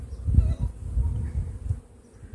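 A large honey bee colony hums steadily in an opened hive as a beekeeper works the frames, a close, continuous low buzz with no voices.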